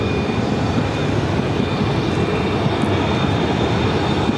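A fixed-wing airliner landing on runway 8 at Phoenix airport: a loud, steady broadband engine roar with a faint high whine, continuous throughout and heard alone.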